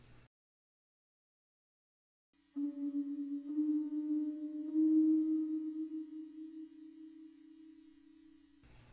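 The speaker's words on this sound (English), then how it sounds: "Now a completely wet signal of just reverb." A fully wet signal from a spring reverb tank fed by a Eurorack synthesizer: after a short silence, a sustained low droning tone with faint upper partials swells, holds and slowly fades over several seconds, alone with no voices.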